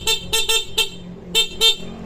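The horn of a vehicle under restoration gives about six short, sharp honks in uneven quick succession, loud and close, with no talking.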